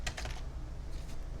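Rapid, light keystrokes on a computer keyboard, clustered in short bursts near the start and again toward the end, faint and close with no talking over them.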